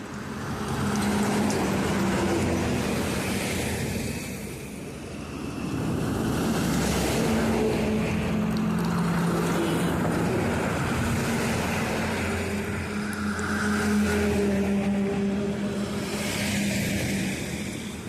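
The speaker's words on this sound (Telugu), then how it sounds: "చూడండి, లారీలు అయితే వస్తూనే ఉంటాయి." Lorries speed past on a highway while someone stands on the divider, heavy roaring whooshes swelling and fading in long waves, loud and close, with wind buffeting the microphone and no clear talk.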